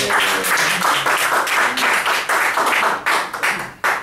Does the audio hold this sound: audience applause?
yes